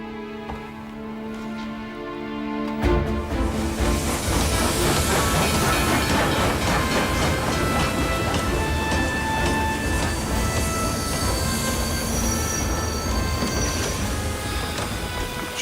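Steam locomotive standing at a station platform, with loud continuous hissing steam and heavy rumble after a quieter start, a few faint clanks and rail noises under it, no voices.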